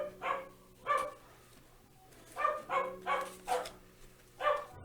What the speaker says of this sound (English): My dog was going crazy because we had somebody